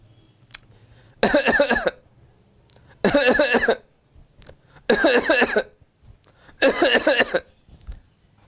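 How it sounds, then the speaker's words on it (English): Four separate bursts of coughing, each lasting well under a second, with quiet gaps of about a second between them. The bursts are close and loud, and each one holds several rapid coughs run together. "Next, my friends, we have cough in three paroxysms"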